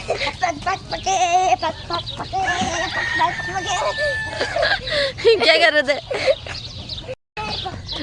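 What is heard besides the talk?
hen clucking while being fed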